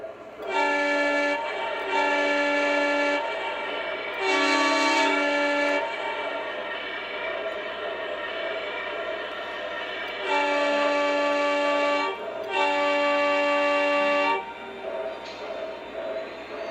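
An O gauge model train engine sounds a horn on the layout, loud repeated blasts in bursts of about a second each, with a continuous rumble of running gear between them.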